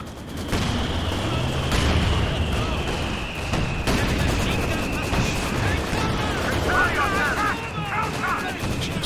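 Tank cannon fire from a Panther and Panzer IVs in a Company of Heroes 2 battle, heavy booming shots and rattling gunfire over a dense, continuous wash of battlefield noise, with a commentator talking throughout.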